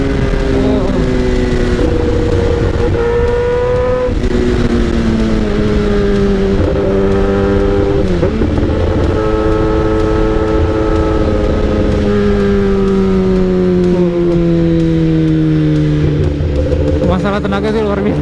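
Kawasaki ZX636 and ZX10R sport motorcycles at full throttle, engines screaming loud and close as revs climb and drop through gear changes, with a rider talking over the continuous roar.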